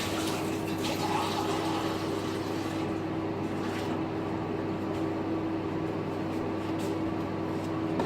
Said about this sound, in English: I'm gonna get some cold water.